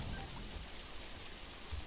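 Steady rain falls during a night scene in the tactical video game Jagged Alliance 3, a constant dense hiss of drops with a few soft low thuds.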